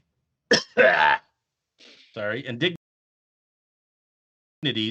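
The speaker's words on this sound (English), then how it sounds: "I had a cough." A couple of short throat-clearing coughs near the mic, followed by a brief burst of talking after a pause.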